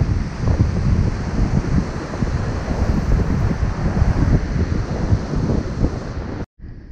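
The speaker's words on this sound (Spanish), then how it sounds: "Vean nada más, las olas del mar, un lugar solitario" Ocean waves roll onto a lonely beach in a continuous roaring surf, heavily buffeted by wind against the microphone, cutting briefly at the end.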